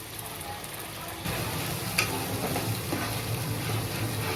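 Mustard, green chilli, puffed rice and cashew spice paste with salt, turmeric and chilli powder frying in a pan, a fairly soft steady sizzle that thickens after a stir, with a brief clink of a utensil.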